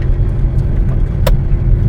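Vehicles drive along a hilly road ahead, heard as a loud, steady car engine rumble with passing traffic noise from inside a moving car.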